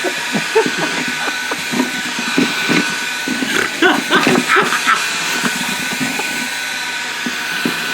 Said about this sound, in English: Then we can turn a vacuum cleaner into a hoverboard.